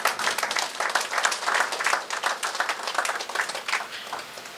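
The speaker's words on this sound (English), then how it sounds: "I want again you all to give yourselves another round of applause" Steady round of applause from a dinner crowd at a police service anniversary celebration, dense clapping filling the room for several seconds, moderately loud and even throughout.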